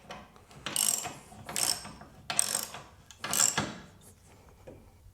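A ratchet wrench with a 15/16 socket tightens down the hitch mount of a Hitchfire F20 portable grill, giving four separate bursts of rapid clicking about a second apart, close and moderately loud.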